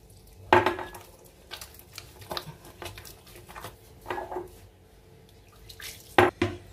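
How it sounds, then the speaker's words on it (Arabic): Kitchen sounds while water is added to sticky dough: drips and splashes, light clinks of a bowl or utensil and soft stirring, with a few sharper knocks, all fairly close. "نعاود نزيد واحد شويه الماء"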